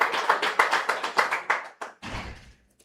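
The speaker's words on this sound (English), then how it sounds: "Please, let's give a round of applause to Ifeoma Chukwu." A small audience claps in a quick, even rhythm of distinct hand claps that thin out after about two seconds and are followed by a dull thud and near silence.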